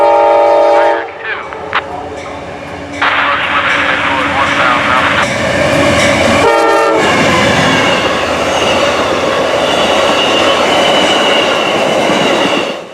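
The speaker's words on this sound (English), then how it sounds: "This is Amtrak 97, the southbound silver meteor to Miami, 8 hours late on this night." Amtrak 97, the southbound Silver Meteor passenger train to Miami, blows its horn and then rushes past close by at night, with a loud sustained roar of cars and wheels.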